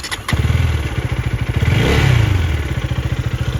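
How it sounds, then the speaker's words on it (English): A KTM Duke 250 single-cylinder motorcycle is started up close with a starter whir, then fires into a loud, choppy idle. A brief rev swells in the middle before it settles back to an even, thumping pulse. "let's fire up the engine and see how it sounds"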